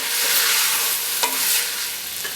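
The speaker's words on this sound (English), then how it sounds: "So now add the shallots and stir well, and we'll saute for another 2 minutes" Shallots sauteing with beets in a hot pan, a loud, dense sizzle heard up close with a brief clink of a stirring utensil partway through, no speech.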